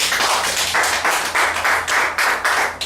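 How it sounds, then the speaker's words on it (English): Rhythmic clapping, loud and close, in regular repeated bursts that sound like a group clapping together in time. "Round of applause."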